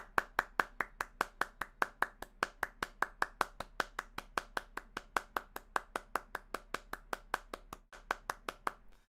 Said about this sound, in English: Clap it up for my guy Bejon